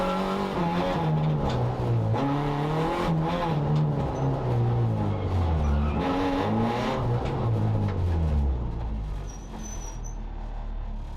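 Race cars of the Circuit Excel trophy class heading back out onto the track, several engines droning and revving up and down in overlapping pitches, loud and close, then easing slightly as they pull away.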